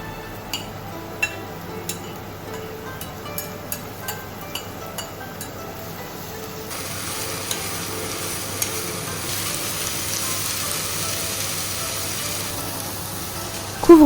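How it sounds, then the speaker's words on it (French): Bell peppers fry in a pan with a soft, steady sizzle, broken by light clinks and taps of a utensil against the pan. The sizzle thickens about halfway through. "Ensuite, ajoute les poivrons dans la même poêle."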